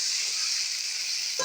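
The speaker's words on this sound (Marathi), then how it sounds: "एकदा बटाटे फ्राय करून घेऊया. परतून घेऊया छान." Potatoes frying in a pan for Mumbai-style pav bhaji, a dense, steady sizzle close up with a brief stir at the very end.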